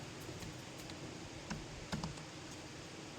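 Keystrokes on a computer keyboard while C code is typed: a few faint, scattered clicks, sparse and irregular, over a soft steady room hiss.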